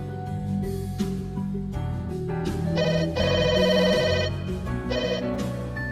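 A telephone rings in a repeating electronic pattern of bright tones, in a scene from a regional Bengali drama. It is moderately loud, with no talk.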